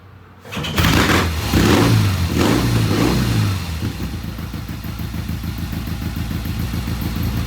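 A motorcycle engine on a test ride, being started with a carburetor float bowl filling after a hard start, catches and revs loudly up close, then settles into a steady, slightly lower idle-like running drone.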